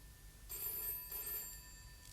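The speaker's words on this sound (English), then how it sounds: "Answer the phone." A telephone bell rings in a radio drama adaptation of a Daphne du Maurier novel, a single burst lasting about a second, fairly faint and set against a quiet room background with no talk over it.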